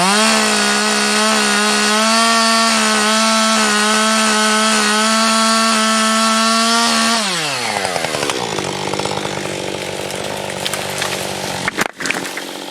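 Chainsaw felling a cherrybark oak: a loud, close, high-revving engine holds a steady cut for several seconds, then drops in pitch into a rougher, bogging chew through the wood, with a sharp crack near the end.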